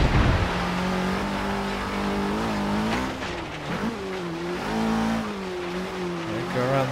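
A 2013 Dodge Dart GT climbs a hill in Forza Horizon 3, its engine droning steadily and rising and falling in pitch through gear changes, loud and close with no talk.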